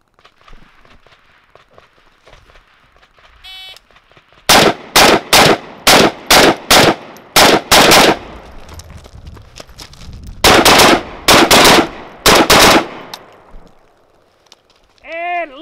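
Loud, close ZPAP M70 AK-47 rifle fires 7.62x39 rounds in a nine-shot drill: one string of six sharp shots, then a pause, then three more, with quiet stretches before and after.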